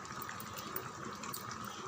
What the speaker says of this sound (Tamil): இந்த ஜாரில் கொஞ்சம் தண்ணி விட்டு சேர்த்துருங்க.